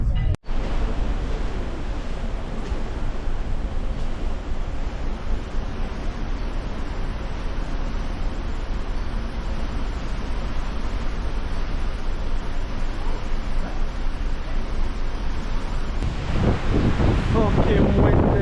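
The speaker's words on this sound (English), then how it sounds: "Feel the wind. It's fucking brutal." Strong wind buffets the microphone on the Irish coast, a constant loud roar across the whole stretch, with a brief burst of a voice near the end.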